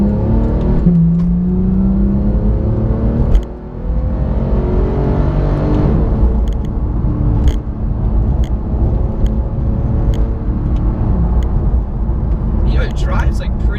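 A 2015 Porsche 911 GT3 engine revs hard on a bumpy road, its loud, rising howl sweeping up toward the red line again and again, with voices talking over the continuous roar.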